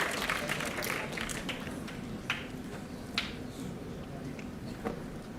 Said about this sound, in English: Let's give them another round of applause to our awardees